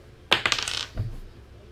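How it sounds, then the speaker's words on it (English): Dice roll across a hard surface with a rapid clattering rattle of several bounces, followed by a softer final knock as they settle. "Let's go ahead and roll the dice here."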